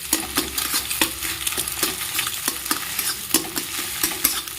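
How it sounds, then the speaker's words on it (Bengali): Egg fries in a pan for spicy chicken pasta, giving a steady close sizzle. A utensil stirs and scrapes it into pieces, tapping the pan now and then. No one talks. "ডিমটা আমি এভাবে ভেজে নিচ্ছি।"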